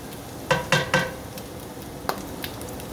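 Garlic sautéing in a pan for chicken Alfredo, a soft steady sizzle under a few quick stirring scrapes and clicks of a utensil against the pan, with no voices.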